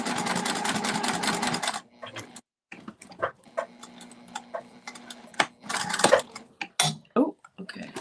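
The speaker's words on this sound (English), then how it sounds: "I'm just starting my stitching now" A sewing machine stitching a clutch wallet: a fast, steady run of needle clatter, then short start-stop bursts and clicks with pauses between, close by and fairly loud.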